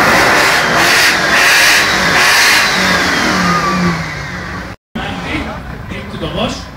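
An American car's engine is revved several times while parked in neutral at a US car meet at Lake Balaton, Hungary, loud and close over constant crowd and voice noise, then dropping briefly before picking up again.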